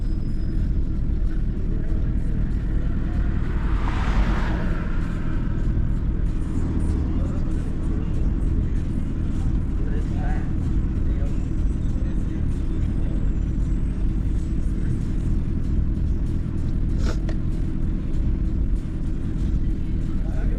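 City buses and cars roll past in heavy traffic near Indiana University, a constant low engine rumble with a brief hiss of air brakes, heard from inside a vehicle.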